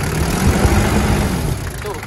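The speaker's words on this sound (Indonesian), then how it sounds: "itu saudara knalpot bocor" A 1990 Daihatsu Taft engine runs with a leaking exhaust, giving a loud, steady, rough rumble up close with a puffing rasp, and a voice speaks over it.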